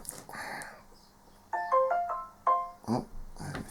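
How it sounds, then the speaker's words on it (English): A mobile phone ringtone chimes in a workshop during airbrush cleaning: a short run of clear, melodic electronic tones in two quick bursts, fairly loud and close, with light clatter around it. "oh, there's my phone"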